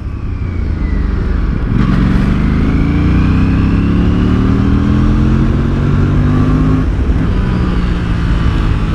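Motorcycle engine revving steadily while riding fast on a slow bike, rising and falling pitch as it accelerates through gears, loud and close with continuous wind noise and no talk.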